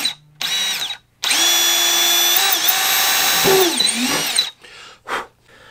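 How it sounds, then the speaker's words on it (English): A handheld power drill bores through a model jet wing during assembly of a Sebart Avanti Mini turbine plane, running in two loud, close bursts with the motor whine rising and falling, then a few brief trigger blips. "So now we're going to go ahead and just drill all the way through there."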